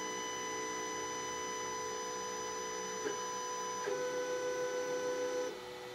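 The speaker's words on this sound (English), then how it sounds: "Now we're going to home the machine." A WanHao Duplicator 7 resin 3D printer homes its build plate, giving a steady electronic hum with a stepper-motor whine that shifts partway through and stops near the end; no one speaks.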